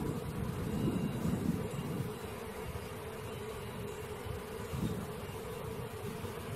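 Honey bee swarm streaming into a nuc box outdoors makes a steady, dense buzzing hum with a soft wind rumble, loud and continuous throughout, swelling slightly in places, with no talk.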